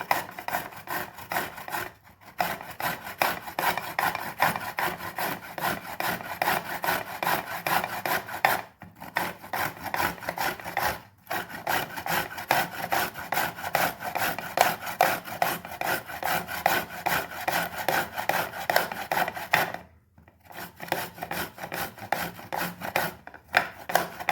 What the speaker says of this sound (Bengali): প্রথমে আমি গাজর ঘষে ঝুরি ঝুরি করে নেব